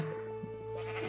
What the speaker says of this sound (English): I don't know why the sheep wants to be up here. A very insistent sheep.